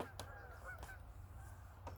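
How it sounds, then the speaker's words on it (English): Geese honking as they fly overhead heading west, several harsh calls in short bursts over a low steady hum, fairly distant and moderately loud. "More geese."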